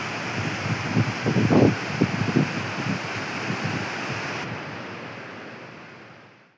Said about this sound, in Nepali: काली गण्डकी नदीमा